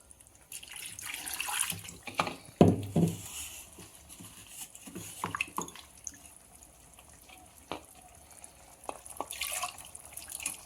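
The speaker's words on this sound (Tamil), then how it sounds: "தண்ணி ஊற்றி அலசி ஊற்றிக்கலாம்" Water poured from a tap into a jar to rinse out ground sambar paste, with splashing, patter and dripping bursts coming in uneven spurts close by in a kitchen.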